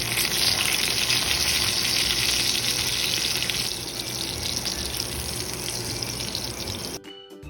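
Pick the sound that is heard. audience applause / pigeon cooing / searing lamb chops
searing lamb chops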